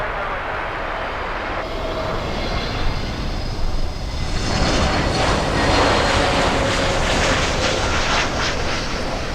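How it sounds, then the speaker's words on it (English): A TAP airliner lands on runway 12 at Miami International Airport, its engines a steady, broad roar that swells and holds throughout, heard from a distance outdoors. "there goes TAP, landing on runway 12"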